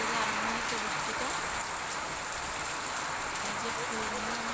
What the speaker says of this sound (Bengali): বৃষ্টিটা হচ্ছে সকাল থেকে